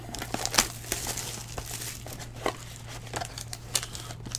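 2018 Panini Contenders Optic football card packs being torn open, with close, continuous crinkling and crackling of foil wrappers and a few sharper rips over a steady low hum.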